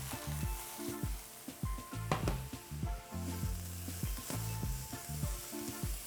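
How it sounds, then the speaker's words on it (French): Asparagus sizzles as it cooks in a pan, with a steady frying hiss and occasional stirring sounds throughout and no talking. "J'ai préféré les cuire en 2 fois pour justement faire en sorte que les asperges cuisent plus vite et de ne pas les abîmer surtout."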